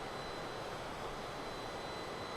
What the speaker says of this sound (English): I'm getting a cue card that the plane is loud.